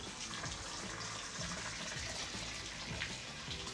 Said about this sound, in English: And then I'm gonna turn our water on.